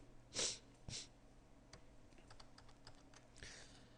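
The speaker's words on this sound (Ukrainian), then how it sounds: "набрати FP мінус і натиснути клавішу Tab" A few scattered keystrokes on a computer keyboard, including a Tab key press, in a quiet room: two louder clicks near the start, then lighter, faint taps spread through the rest.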